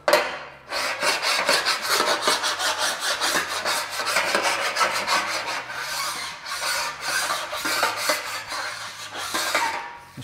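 A hand file rasps over a car body panel in quick, repeated strokes, a close, scratchy grating that rises and falls in steady rhythm throughout.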